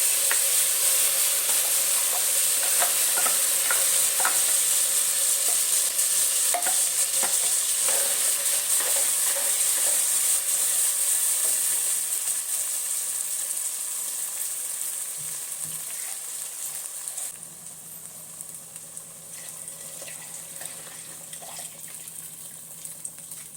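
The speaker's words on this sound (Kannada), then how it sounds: "ರುಬ್ಕೊಂಡಿರೋ ಅಂಥ ಮಸಾಲ ಹಾಕ್ತಾಯಿದ್ದೀನಿ" Ground masala hits a pan for sardine fish curry, crackling and sizzling with intermittent stirring scrapes; the frying is loud at first, then softens into a quieter, steady sizzle toward the end.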